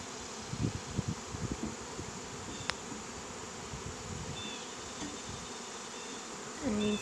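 A large honey bee swarm buzzes steadily and densely throughout, a continuous close insect drone with some rustling and handling noises beneath it.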